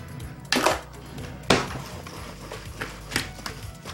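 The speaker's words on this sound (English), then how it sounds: "Now we're just going to stir it all together." A spoon or whisk knocks against a bowl while an egg mixture is stirred, a few sharp clinks spaced about a second apart over quieter scraping, close by and without talk.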